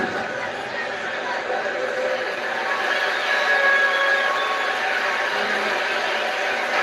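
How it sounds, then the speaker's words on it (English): A referee's whistle in NHL 10 on PlayStation 3, during a Carolina Hurricanes game, sounds as a thin, steady tone lasting about a second. It sits over constant arena crowd noise and a voice. "We'll get a whistle here."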